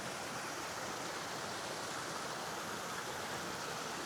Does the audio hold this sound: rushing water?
yes